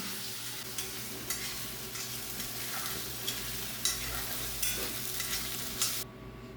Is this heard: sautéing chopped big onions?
yes